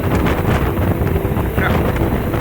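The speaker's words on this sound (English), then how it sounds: "It's pretty damn windy." Strong wind atop an old fire tower buffeting the microphone with a constant, heavy roar and low rumble throughout.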